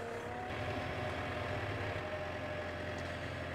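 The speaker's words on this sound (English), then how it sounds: "So we've put the tractor in four-wheel drive to start off" A tractor engine runs in a damp field, a constant low, droning rumble held steady throughout with no voices.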